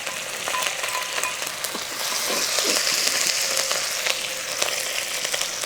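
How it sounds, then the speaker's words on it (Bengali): Grated ginger, garlic paste and green chili frying in a pan while being stirred, giving a steady close sizzle with scraping stir clicks, swelling a little midway. "এরপরে গ্রেট করা আদা আর রসুন বাটা দিয়ে দেবো, নেড়ে দেবো।"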